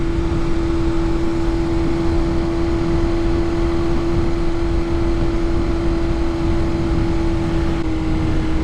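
A BMW S1000RR sport motorcycle's engine drones steadily while riding through curves, a loud, even tone with heavy wind rush over the whole stretch, no talking.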